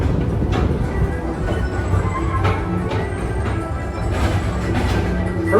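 A Tomorrowland Transit Authority PeopleMover ride vehicle rolls steadily along its track at Walt Disney World, a continuous close rumble and hum with faint clicks and rattles and no talk.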